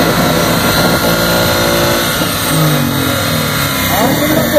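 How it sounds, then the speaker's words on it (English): A Ford Mustang 5.0 revs hard during a dyno pull at an auto show, its engine note climbing steadily through the gears to top speed. The loud, continuous roar has a crowd and voices mixed underneath. "There is absolutely nothing like the sound of the Mustang."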